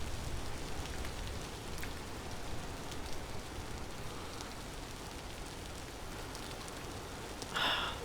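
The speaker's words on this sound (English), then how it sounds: "the rain is going to obscure his warning bells as well" Rain falls in a video game, a soft, steady patter of drops on surfaces. A louder splash or hiss rises briefly near the end.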